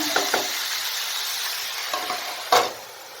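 Ivy gourd thoran sizzles in a pan while being mixed, a steady frying hiss broken by a few scraping stirs and one sharp utensil knock near the end, with no talk.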